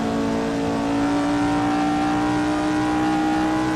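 A Formula One car engine in the racing game Assetto Corsa screams loudly and steadily at high revs throughout, a sustained close-up whine with a constant pitch and no talk.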